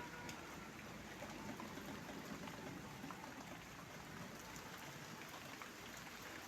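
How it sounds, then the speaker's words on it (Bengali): Steady rain falls all day outdoors, a dense, even wash of drops spattering on surfaces, close and continuous throughout with no other sounds. "তো দেখো কীরকম বৃষ্টি হচ্ছে"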